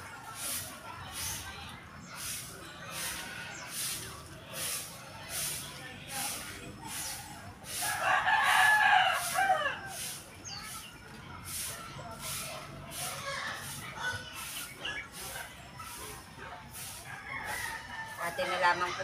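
Chickens cluck softly in a rural yard while a rooster lets out one clear crow partway through; a person speaks intermittently over the birds, with a faint rhythmic ticking in the background.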